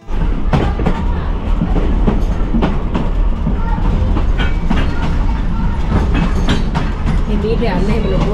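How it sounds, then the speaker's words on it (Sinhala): A steam train decorated with Christmas lights runs along its rails with a steady, loud rumble and rhythmic clatter of wheels, while voices murmur faintly in the background. "මේක ස්ටීම් ට්‍රේන් එක."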